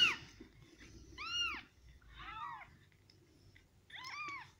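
A cat meows three times, each a clear rising-falling call spaced about a second apart, close and moderately loud over a quiet room.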